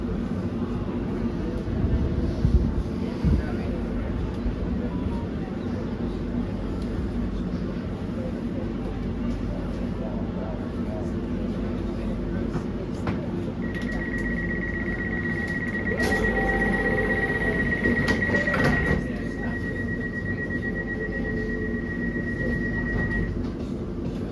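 A London Overground Weaver line train to Enfield Town runs between London Fields and Hackney Downs with a steady low rumble, a thin high whine and a few rattles.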